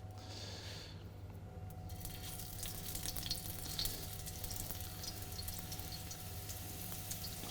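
Lamb meatballs fry in a pan with a steady, close sizzle and crackle, a few at a time, with soft stirring noises over a constant low hum and no talking.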